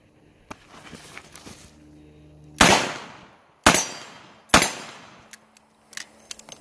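Three loud, sharp shots from a Smith & Wesson 586 revolver fired at a steel target on an outdoor range, spaced about a second apart, each with a short ringing decay, followed by a few faint clicks and knocks.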